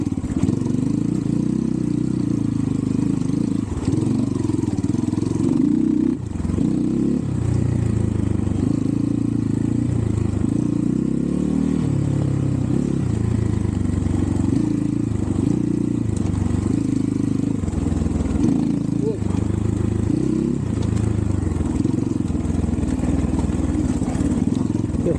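A 250 cc TemplarX motorcycle engine runs continuously on a steep trail, a steady mid-pitched drone with slight revving changes and no pause throughout.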